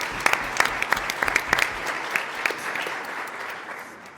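An audience at a Houston mayoral candidate forum breaks into applause, a burst of clapping that peaks early and then slowly thins and fades over several seconds.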